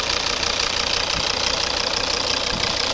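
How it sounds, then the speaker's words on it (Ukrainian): A 2012 Volvo V50 2.0 five-cylinder turbo diesel engine runs close up with a steady knocking rattle and even mechanical hum, loud and constant throughout. "Ось робота двигуна."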